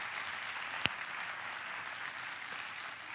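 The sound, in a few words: theatre audience applause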